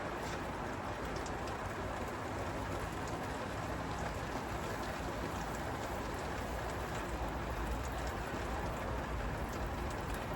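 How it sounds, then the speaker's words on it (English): Rain falls steadily on a garden with sprouts being watered, a dense, even patter of drops on surfaces lasting throughout, close and continuous with no talking. "Oh, I am getting rained on."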